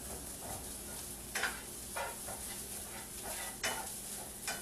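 Chopped onions sweat and sizzle in a pan, a steady soft hiss with several brief scraping stirs at irregular intervals, close and moderately quiet, no voices.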